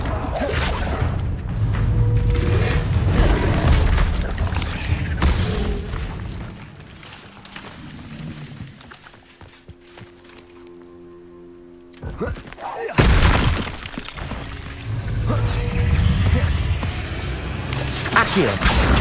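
Loud explosive spell blasts from Confringo in Hogwarts Legacy, heavy booming bursts at the start and again after a quieter lull, with a voice shouting spell names among the impacts.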